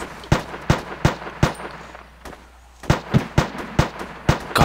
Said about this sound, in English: I can hear too much shooting going on